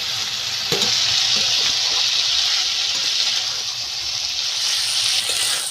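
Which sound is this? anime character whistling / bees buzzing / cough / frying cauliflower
frying cauliflower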